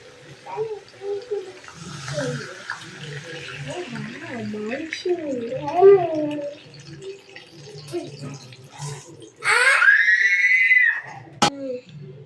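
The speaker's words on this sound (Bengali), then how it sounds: "এবার এর মধ্যে আমি পরিমাণ মতো জল দিয়ে দেবো" Water poured into a pan of well-braised meat curry with potatoes gives a loud, short sizzling rush near the end, after a stretch of a person talking close by.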